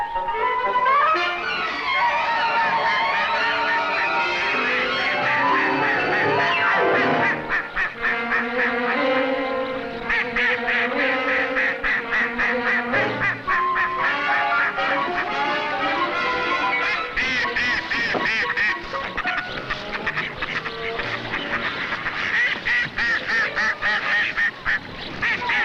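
Ducks quack in alarm at a pond as a falcon dives on them, harsh calls repeating steadily and loudly throughout over a dense, busy background.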